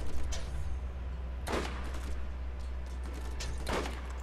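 Gunfire from a fight against a pyro enemy in Borderlands comes as two sharp, fairly faint shots a couple of seconds apart over a low steady game hum.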